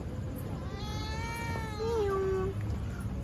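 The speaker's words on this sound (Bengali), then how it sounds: "ও দেখো যে একটা মিউ আসছে একটা মিউ একটা মিউ চলে আসছে" Near, clear cat meows in a drawn-out, wavering call that rises and then settles, sounding alone over a steady rain-like background hiss.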